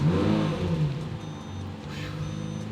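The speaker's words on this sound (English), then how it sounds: "let's go ahead and take a drive in our Lamborghini Murcielago" A Lamborghini Murcielago driving and revving: a loud, deep engine drone that swells early then settles into a steady rumble with rising whine, heard close with no talk.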